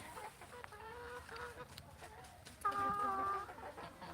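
Chickens clucking on a poultry farm, scattered soft clucks and short calls at a moderate distance over a low, steady background hum.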